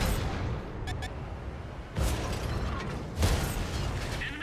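Heavy cannon shots from an IS-7 tank in a video game, two booming blasts a little over a second apart, each followed by a rumbling tail over a low mechanical drone, with brief metallic clicks early on.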